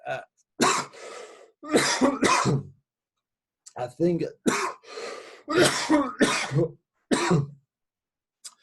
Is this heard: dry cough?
yes